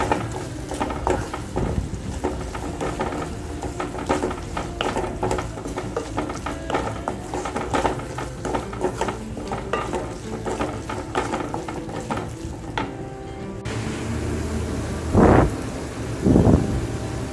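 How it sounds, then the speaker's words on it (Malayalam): Masala for a Kerala prawn roast is stirred and sautéed in a pan, giving repeated scraping and clattering strokes over a low sizzle, with a few louder knocks near the end. "നന്നായി മിക്സ് ചെയ്തെടുക്കുക."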